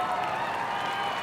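The audience at the 2026 Westminster Dog Show cheers and claps for an Afghan hound in the Hound Group, a dense, steady wash of applause.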